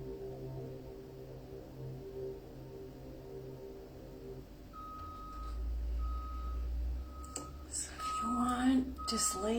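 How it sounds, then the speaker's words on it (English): Reversing beeps from a truck outside, a steady repeating tone starting midway and continuing, distant and faint under a soft spoken voice and low rumble during a crystal and Reiki healing session. "I do apologize for the beeping in the background."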